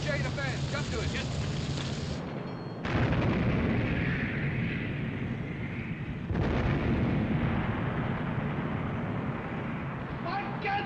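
Naval gun turrets fire in a battle scene, heavy booming blasts and roaring rumble filling the scene, with sudden jumps in loudness and voices shouting over the din.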